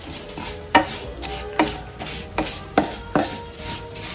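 Ingredients stirred and roasted in a pan until browned, for kheer: regular scraping spatula strokes about every second over a soft sizzle, close and clear, with no voices.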